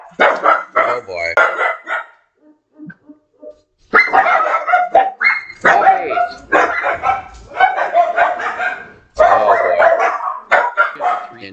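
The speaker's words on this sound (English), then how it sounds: "And that's a lot of barking, guys." A dog barking repeatedly and loudly close by, in bursts separated by short pauses, picked up through a laptop microphone during an online card game stream.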